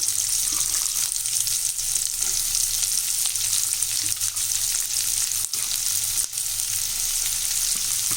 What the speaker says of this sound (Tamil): இப்போ இந்த எண்ணெய் நல்லா காஞ்ச உடனே நம்ம பொடியாக கட் பண்ணி வச்ச இந்த வெங்காயத்தை போட்டுடலாம்